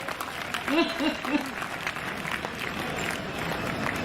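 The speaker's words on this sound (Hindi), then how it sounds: "तालियां बजाइए।" Audience clapping at a kavi sammelan poetry recital at the Kota Dussehra fair, a moderate crowd patter running steadily beneath a voice speaking briefly near the start.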